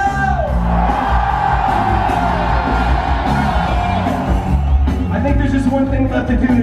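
Crowd at a concert in Nîmes in 2024, whooping, yelling and cheering loudly and without a break, a massed roar of voices that fills the whole stretch.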